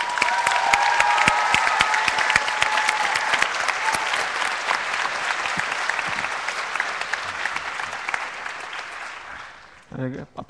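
An audience at an opening show breaks into loud, sustained applause, a dense wash of clapping with scattered cheers that fades out near the end.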